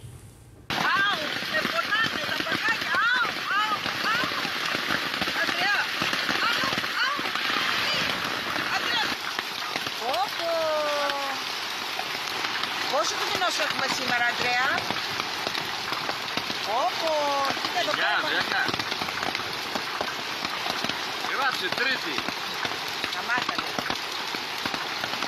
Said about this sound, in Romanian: iar cealaltă este lovită de grindină